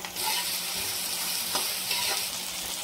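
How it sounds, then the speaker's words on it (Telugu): Vegetables with capsicum, ginger garlic paste and green peas fry in a pan for pav bhaji, giving a steady, close sizzle with occasional stirring scrapes throughout. "ఇప్పుడు బాగా ఫ్రై చేసుకోవాలి"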